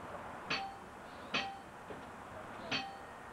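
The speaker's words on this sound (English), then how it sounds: "Ring the engine room gong." An engine room gong on a 33-foot steamboat rings out in three clear, evenly spaced metallic clangs with a faint fourth tap between, fairly quiet with no talking.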